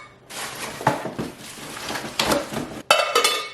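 Heavy-duty Tramontina non-stick pots, pans and lids clank and knock together as they are handled and unpacked, several sharp metallic hits scattered across a few seconds, close and fairly loud with no talking.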